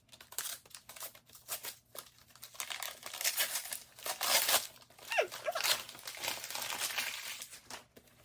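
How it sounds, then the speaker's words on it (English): A book is unwrapped from its packaging, with close crinkling, crumpling and tearing of wrap in bursts over about eight seconds, with no talk. "And now it's time to unwrap the book for next week."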